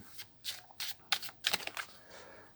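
Oracle cards shuffled and drawn by hand, a series of crisp riffling bursts and soft slaps spaced irregularly over a couple of seconds, fairly close and quiet with no talking.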